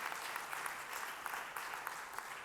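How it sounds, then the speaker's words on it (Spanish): Church congregation applauding during a Spanish-language sermon: steady, dense clapping from many hands, fairly distant and even throughout, with no talk over it. "Le da ese aplauso fuerte al Señor."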